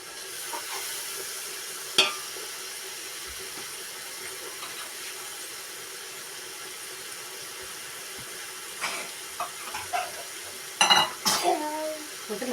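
Garlic paste with shallot paste fries for chicken biryani in a pan, with a steady soft sizzle and hiss, then stirring scrapes and clinks near the end.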